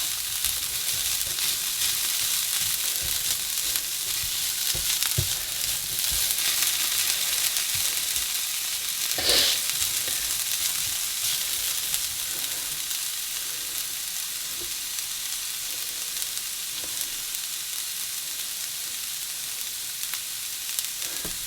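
Cold cooked rice frying in a pan for egg fried rice, a continuous close sizzle with occasional stirring scrapes and taps.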